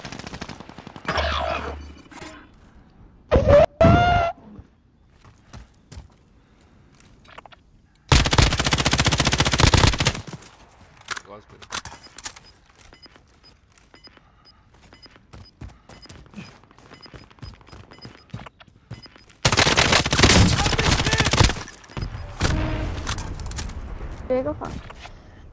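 Call of Duty gunfire in bursts: a short volley near 4 s, a loud sustained burst around 8–10 s, and another long heavy stretch from about 19–22 s, with speech and lighter game noise in between.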